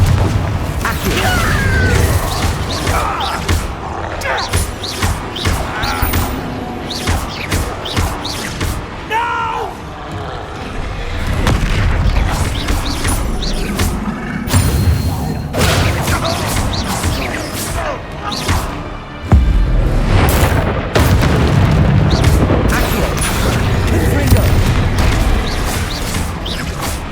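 Spell explosions go off in the video game Hogwarts Legacy, a dense run of loud booms, crashes and thuds layered over game music and character shouts throughout.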